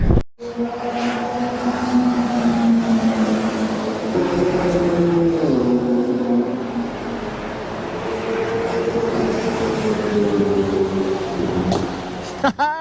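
Porsche 911s race down a wet straight at the Nürburgring in heavy rain, a loud, close engine drone running the whole time, its pitch sliding downward as cars sweep past one after another.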